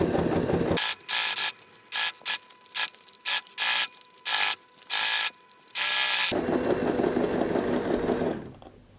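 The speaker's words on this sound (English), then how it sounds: "just hold your lining from underneath and then go ahead and sew" Sewing machine stitching a handbag lining seam, running in several short bursts with brief pauses, then one longer steady run, close and clear with no talking.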